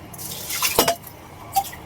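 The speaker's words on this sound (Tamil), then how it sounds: "அரிசி கழநீர் பிடிச்சிட்டு இருக்காரு." Rice-washing water trickles and drips into a container, with two brief louder splashes among quieter pouring sounds, close and moderately loud, no talking.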